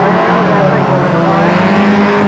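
Rallycross cars at Lydden Hill pulling away from the start line, loud close engine roar and revving with a steady high drone throughout.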